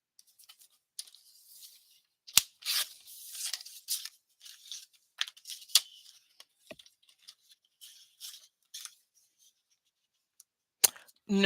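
Scissors cutting through craft material in short snipping and rustling bursts, close and fairly quiet, with a few sharp clicks and pauses between cuts.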